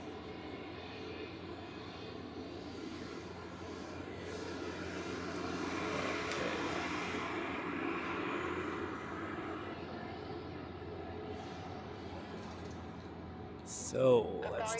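A Qatar Airways airliner departs Zurich airport in freezing weather, its jet engines a steady broad roar swelling and easing across the whole stretch, while people talk quietly nearby.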